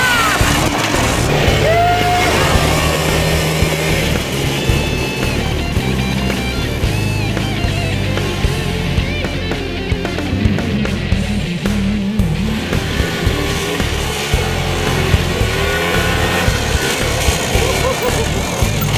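A quad bike loaded with metal-detecting gear drives up a mountain, its engine droning loudly and continuously close to the microphone for the whole stretch, with no pauses.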